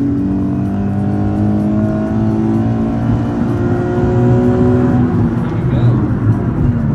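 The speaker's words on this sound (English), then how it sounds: "Yeah, I need new tires. Yeah, you can hear it though, they like screeching." A 2015 Nissan 370Z accelerates hard, its engine note climbing through rising and falling harmonics with a tire squeal underneath, loud and close from inside the car, while people talk over it.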